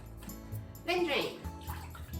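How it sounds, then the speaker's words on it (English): Water draining from a bowl of soaked wakame seaweed in a kitchen, a brief splashing pour at close range mixed with background music. "Then drain."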